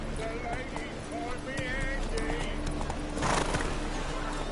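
Horse hooves clip-clopping at a gallop with a neigh in The Witcher 3 video game, steady close hoofbeats under game music and spoken dialogue.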